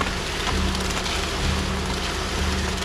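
Rain falls steadily on an outdoor construction site where concrete footings are being poured, a dense even patter on surfaces with no talking.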